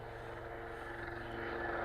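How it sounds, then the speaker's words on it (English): Helicopter passing over an open field, its low rotor thrum pulsing steadily and growing slightly louder, heard from a distance with no talking. "go away, bloody helicopter"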